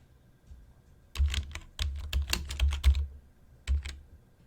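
Bursts of typing on a computer keyboard, quick clusters of crisp key clicks close to the microphone separated by short pauses, in a quiet room with no talking.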